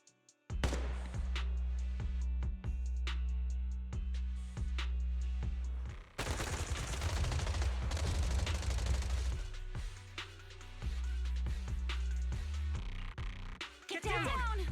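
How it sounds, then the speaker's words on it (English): Sustained bursts of suppressive marching gunfire ring out in the video game Zenless Zone Zero, with sharp repeated shots over a low rumbling bed and a brief voice cutting in near the end. "Gunfire? This pattern. Suppressive marching fire."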